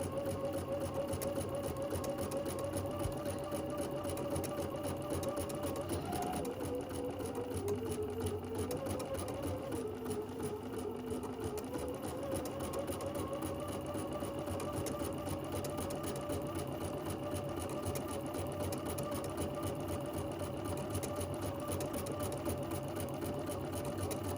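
A sewing machine stitches steadily through fabric while quilting a small project bag, its continuous motor hum and rapid needle rhythm running close and unbroken throughout, with no talk.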